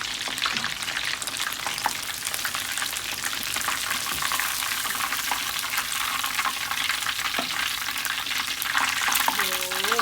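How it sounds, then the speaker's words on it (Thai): Battered shrimp deep-fry in oil with a dense, continuous bubbling sizzle that stays loud and even throughout, and a voice briefly joins near the end. "หลังจากเรากลับเสร็จแล้วเราก็จะทิ้งไว้สักพักนึงนะคะทอดต่อสักแป๊บ"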